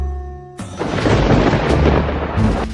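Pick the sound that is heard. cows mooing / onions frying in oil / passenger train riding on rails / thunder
thunder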